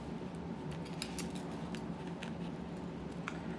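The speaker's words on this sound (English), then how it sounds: "I'm being lazy and I'm using these humongous shears" Large fabric shears snip through felt along traced lines, a series of soft, quiet crisp cuts repeating irregularly over a low background murmur, no one speaking.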